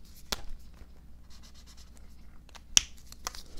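Watercolor highlighter marker tips scratch and stroke across paper in short, light bursts separated by quiet gaps, with a couple of sharper taps, close and faint.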